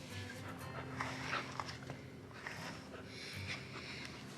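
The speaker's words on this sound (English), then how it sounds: "You're a big puppy." A golden doodle puppy pants and snorts up close in quick, soft, breathy bursts with a few small whimpery noises, steady and fairly quiet throughout.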